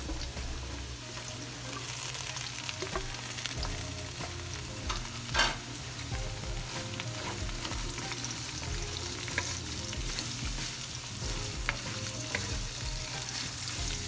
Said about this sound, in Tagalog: I-saute lang natin guys yung carrots guys sa bawang sibuyas saka sa ginger natin kanina.